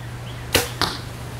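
Two quick whooshing thwacks about a quarter second apart, like arrows released and striking, over a faint steady hum.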